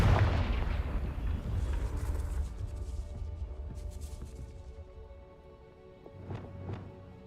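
Confringo, a blasting spell in Hogwarts Legacy, lands as one loud explosive boom that decays into a rumbling tail, followed by a couple of fainter impacts near the end.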